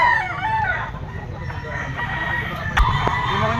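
A gamefowl rooster, a WPC banded stag, crows at close range in a busy outdoor setting with ongoing background chatter and a brief sharp click near the end.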